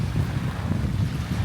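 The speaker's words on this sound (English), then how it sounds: "this wind is coming this way" Wind blowing at a beach on a Vietnamese island, a loud, gusty low rumble buffeting the microphone, continuous and close for a brief stretch.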